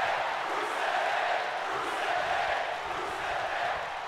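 A virtual arena crowd in the WWE 2K19 wrestling game cheers and roars steadily throughout, a dense, continuous wash of noise during an Elimination Chamber pay-per-view match, with no break or lull.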